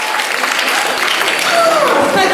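A theatre audience of about 700 applauding at a first dress rehearsal of Wise Children, dense steady clapping filling the space, with a voice briefly emerging near the end.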